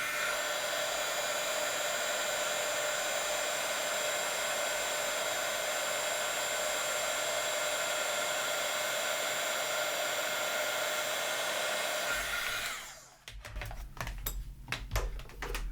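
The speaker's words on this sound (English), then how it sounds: "I'm going to take out my embossing heat gun, it's the Sizzix one" A Sizzix embossing heat gun melts embossing powder for a Christmas cutlery holder craft, blowing a loud, steady whirring hum for about twelve seconds before it switches off, leaving faint clicks and handling noises.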